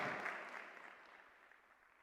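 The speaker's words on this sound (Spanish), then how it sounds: "dale el aplauso al Señor" Brief congregational applause in a church service, a burst of many hands clapping that quickly thins and fades away.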